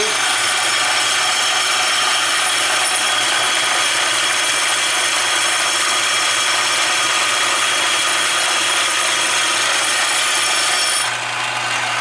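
A long milling cutter machines a quarter-scale custom aluminum wheel, giving a loud, steady, hissing grind that runs without a break and eases off slightly at the very end.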